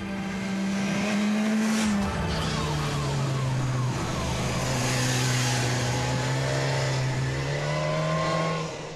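A BMW Adventure Sport motorcycle with a 999 cc inline four-cylinder engine revs and rises in pitch close by, its tone climbing and holding steadily, with a voice talking over part of it.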